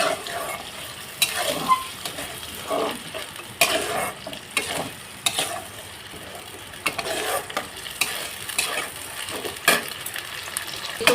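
Spice masala frying in oil in a pan, a low continuous sizzle punctuated by irregular scraping and clinking stirring strokes, close up and without speech.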